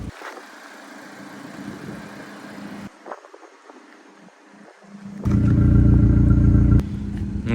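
Engine of a Renault Mégane 4 GT with 205 hp, running at night: low idle rumble that rises into a louder, deeper rev near the end, heard alone without talk.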